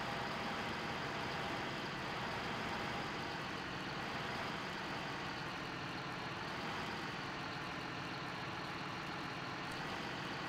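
Tractor engine in Farming Simulator 15 running steadily as it drives into a wash station, a continuous low idling rumble with broadband noise and no talk.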